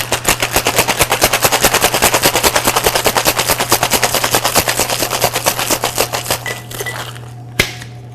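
Ice rattles hard inside a cocktail shaker as a whiskey sour is given a cold shake, a fast, loud, even rhythm of clacks that slows and stops near the end, followed by a final knock.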